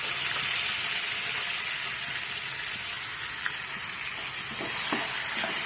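Soaked toor dal added to hot oil with curry leaves and chillies sizzles steadily in a pan, a loud, continuous hiss and crackle close by with no talking.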